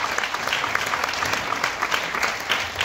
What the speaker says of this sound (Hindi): आपके लिए भी तालियां